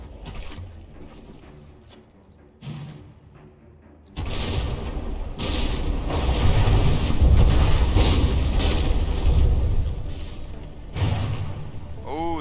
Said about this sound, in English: we've got another volley coming in. Let's go ahead and follow these shells in